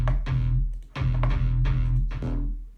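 A riser kick driven through Devaster multiband distortion pounds out heavy, gritty low hits in a repeating pattern, each booming note sustained and saturated, loud and close with no talking.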